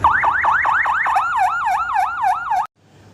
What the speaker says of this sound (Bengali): তখন বাড়িতে অ্যাম্বুলেন্স ডাকা হয়